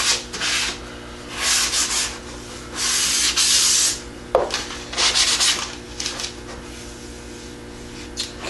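Wood being sanded smooth by hand for a glazed finish, with repeated bursts of rough rubbing strokes separated by brief pauses, close and fairly loud with no talking.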